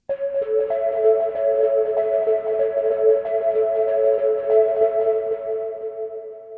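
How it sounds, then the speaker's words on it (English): A soft synth sustains a few held notes while quick repeating echoes wash around them, building a hazy, ambient shimmer with no voices. "that's just going to make this washy ambient delay that sounds like this"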